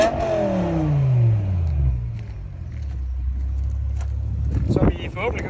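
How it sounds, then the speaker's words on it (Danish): A BMW M6 E63 with a newly rebuilt S85 V10 engine revs, the pitch falling smoothly from a high rev to a deep, steady idle nearby, with brief talking near the end. "Så vi forhåbentlig kan høre, så er M6'eren i topform igen og klar til at gå sommeren i møde."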